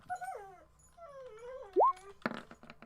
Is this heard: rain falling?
no